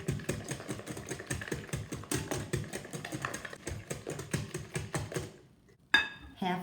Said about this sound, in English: Whisk that in really well.